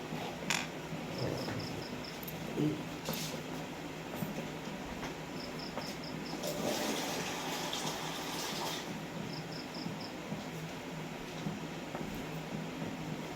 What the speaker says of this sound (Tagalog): Nagkukuha po ako ng tubig para makita nyo po.